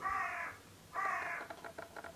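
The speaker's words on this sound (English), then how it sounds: "Why do seagulls sit on my roof?" Seagulls call from a house roof in London: two long, drawn-out cries, then a quick run of shorter, choppy calls, fairly close and clear with no talking.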